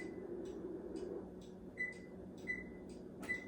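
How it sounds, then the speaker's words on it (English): Kitchen oven being switched on and set to 375 degrees for baking pumpkin pie oatmeal, giving three short, clear electronic beeps spaced apart over a quiet, steady background hum. "I forgot to cut the oven on."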